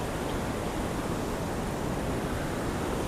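A river swollen with water rushes steadily at Channat waterfall, a dense, even roar that fills the whole clip without a break, with no voices.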